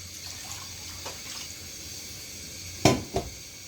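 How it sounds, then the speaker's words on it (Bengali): Water poured into a cooking pot of bhuna khichuri with mung and masoor lentils, heard as two short, close splashes near the end after a quiet, steady background. "এবার হচ্ছে পানি দিয়ে দিলাম।"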